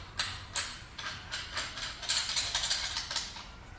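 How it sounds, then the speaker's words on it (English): Kettlebell adapter mechanism being screwed and tightened onto a dumbbell in a gym, giving a run of close, dry ratcheting clicks and small metallic turns that grow busier toward the end. "So you just unscrew the mechanism there, open up the latch, put it in, and then you tighten it up."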